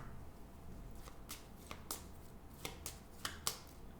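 Oracle cards being shuffled by hand during a tarot reading, a series of soft, sharp riffling flicks at irregular intervals, faint and close, with no talking.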